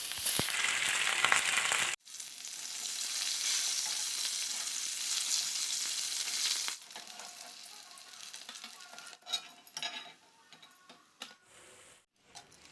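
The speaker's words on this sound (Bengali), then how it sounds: "পরিমাণ মতন তেল দিয়ে তেলটা গরম হলে মাছগুলো ভেজে নেব" Fish sizzling in hot oil in a pan, a loud steady hiss that breaks off briefly, resumes, then softens into quieter crackling and intermittent spits.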